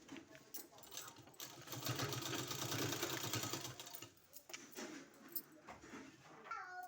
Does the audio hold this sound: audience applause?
no